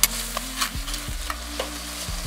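Onions, tomatoes, turmeric, chilli powder and coriander powder being stirred and fried in a pan, with a steady soft sizzle and a few scraping stirs close by, no voices.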